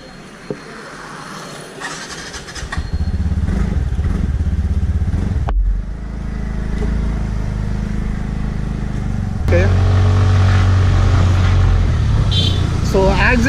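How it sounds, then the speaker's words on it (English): A BS6 TVS NTorq scooter rides and accelerates, its engine drone building over wind noise and growing louder and higher near the end. A rider talks over it in places. "So acceleration is so good in this bike. It's really smooth and pulls out really well"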